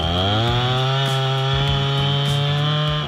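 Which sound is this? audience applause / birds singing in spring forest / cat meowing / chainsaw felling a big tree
chainsaw felling a big tree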